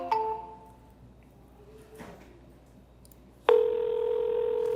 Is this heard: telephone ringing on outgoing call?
yes